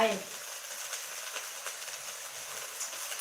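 Dill being stir-fried with fish sauce in a pan, a faint, steady sizzle with light scraping and stirring strokes that carries on for the whole stretch.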